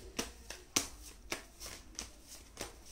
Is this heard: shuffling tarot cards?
yes